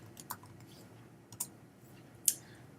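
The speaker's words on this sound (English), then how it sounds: "we're going to try typing in her last name" A few sparse keystrokes on a computer keyboard while searching a library catalog, three or four sharp, quiet clicks spaced irregularly over a faint low hum, with no talk.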